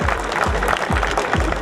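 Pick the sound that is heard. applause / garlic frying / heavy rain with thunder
applause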